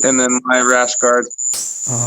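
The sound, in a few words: crickets chirping outside at night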